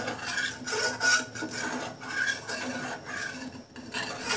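Custard cream thickening on the stove as a spoon stirs it continuously around the pan, making a rhythmic rasping scrape that rises and falls with each pass, close and steady.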